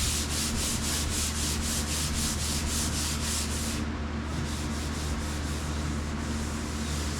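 Hand sanding a surface with 220-grit sandpaper for a light scuff, a close, steady rhythmic back-and-forth rasp of about two strokes per second, continuous with no talk.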